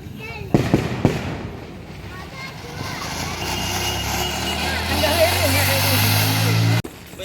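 Diwali fireworks crackle and pop in a noisy outdoor scene, with a couple of sharp bursts early on, then a sustained rumbling din beneath voices.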